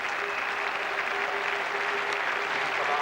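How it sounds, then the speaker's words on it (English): Sustained applause rolls from a Test match crowd at Old Trafford as a departing batsman leaves the field, an even, distant wash of clapping across the whole stretch. "And he acknowledges the applause."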